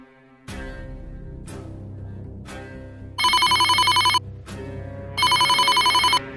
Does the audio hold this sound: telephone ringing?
yes